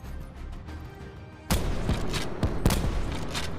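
Video game gunfire cracks out in a few sharp, loud shots, beginning abruptly after a quieter stretch of ambient noise and spaced irregularly over a steady background rumble.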